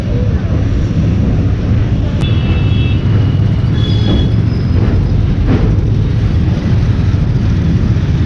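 Train standing at platform 3 of Tundla Junction with the Ananya Express, a steady loud rumble of engine and carriages filling the station, with brief high tones and clanks over it and faint voices in the background.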